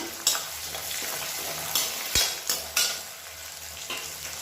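Garlic, cumin and fenugreek sizzle in hot oil in a pan, a continuous close hiss punctuated by several sharp scrapes and taps of a stirring spoon.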